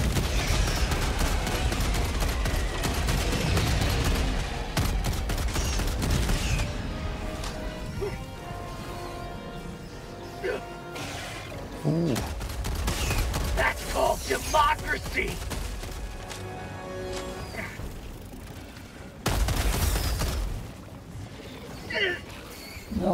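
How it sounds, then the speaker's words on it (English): Orbital strike explosions in the Helldivers 2 video game, heavy booming impacts and crashes mixed with rapid gunfire bursts, loud and sustained with sharp blasts recurring throughout, voices occasionally heard in between. "Orbital strike incoming."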